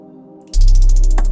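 A quiet tone gives way to a sudden loud bass beat, heavily clipped by a soft clipper, that pulses rapidly with gritty, distorted crackle, close and dense.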